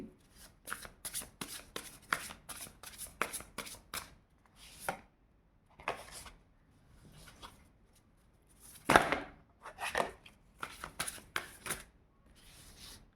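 Tarot cards are shuffled by hand in quick riffling bursts and soft slaps, close and fairly quiet, with brief pauses between rounds and no talking.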